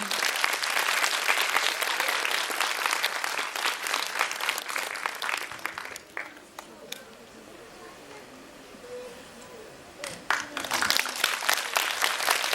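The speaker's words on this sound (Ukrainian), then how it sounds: "Я прошу його підтримати бурхливими оплесками." An audience at a charity concert bursts into dense applause that thins to scattered claps midway, then swells again near the end.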